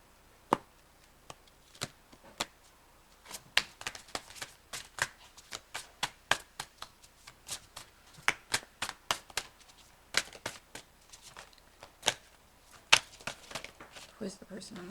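Tarot cards being shuffled by hand produce quick, crisp riffling clicks and snaps in irregular bursts across the whole stretch, close and fairly quiet.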